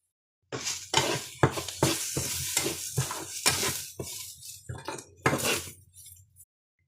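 Eggplant is stirred and sautéed in a pan: a spatula scrapes and clinks against the metal over a soft sizzle. The strokes are close, irregular and repeated, with no talk.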